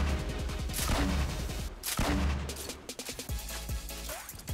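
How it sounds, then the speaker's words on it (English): A grenade launcher fires in the Fortnite video game, producing a loud, dense run of booming blasts and rapid gunfire that carries on with little pause and no voices over it. "Who needs heals when you have a grenade launcher?"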